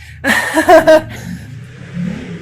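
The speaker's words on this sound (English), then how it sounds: "My neighbor's got a motorcycle that's loud." A neighbor's loud motorcycle revs outside in a few sharp, close bursts, then settles into a lower, fainter rumble as it idles or moves off.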